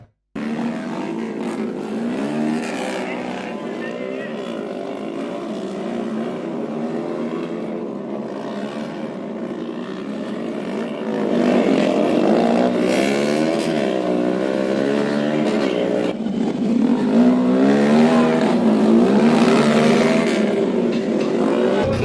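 Motorcycles racing at a village fair bike race near the Maharashtra–Karnataka border, a continuous loud engine drone with rising and falling revs that swells louder in the second half, sounding near.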